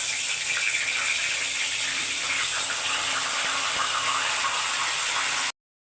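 Fish heads, drained of water, dropped into hot oil and frying, a loud, steady, dense sizzle and crackle that holds unbroken for several seconds before cutting off abruptly.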